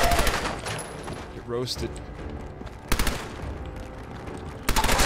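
Gunfire from a weapon in Fallout 4 crackles in sharp, loud bursts, a quick volley at the start, another near the three-second mark and one at the end, while a voice briefly talks in between.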